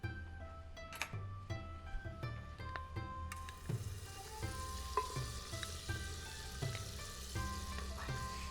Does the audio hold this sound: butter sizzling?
yes